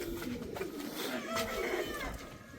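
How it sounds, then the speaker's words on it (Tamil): Pigeons coo softly on a farm, with faint low calls repeating under a quiet outdoor background. "வெயிலுக்கு வந்து புறாக்கள் வந்து நல்லா பெருகுது"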